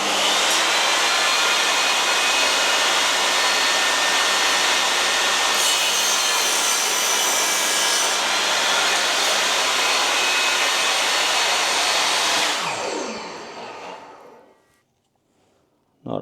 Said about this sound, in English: let's try a 45-degree cut with the miter gauge.